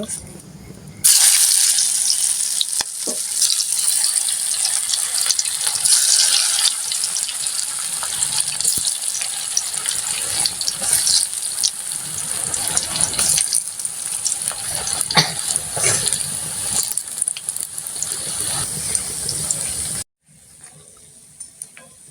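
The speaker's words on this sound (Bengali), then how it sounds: "এখন আমি পেঁয়াজগুলো ভাজবো" Onions fry in a pan, giving a bright, steady hiss and sizzle, with occasional stirring scrapes and pops. The sound starts abruptly after a quiet second and drops away near the end.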